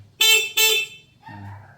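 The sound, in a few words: e-bike horn honking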